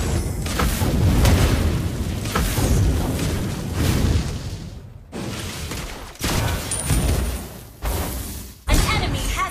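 A loud, dense Lava Burst skill explosion in the mobile game Mobile Legends, booming and crackling almost continuously, broken by short gaps and fresh bursts.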